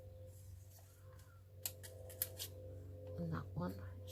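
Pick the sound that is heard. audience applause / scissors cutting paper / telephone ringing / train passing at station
scissors cutting paper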